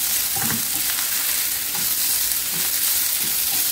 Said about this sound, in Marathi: आता यामध्ये वाटण केलेलं हिरवी मिरची, अद्रक, लसूण हे घालून घ्यायचं आहे।